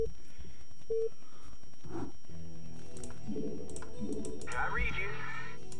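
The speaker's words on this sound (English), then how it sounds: "My typing looks really slow because I have to do it with one hand." Slow one-handed typing on a computer keyboard during a gaming tournament gives sparse, irregular clicks, mixed with voices and electronic game tones.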